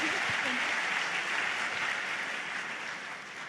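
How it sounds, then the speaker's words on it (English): An audience at a startup pitch event breaks into a round of applause, dense and sustained, gradually fading toward the end, with a brief voice at the start. "Let's give a round of applause."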